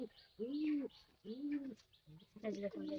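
A male Lotan pigeon coos up close in repeated throaty, rolling calls, two long coos followed by shorter ones, with quiet gaps between.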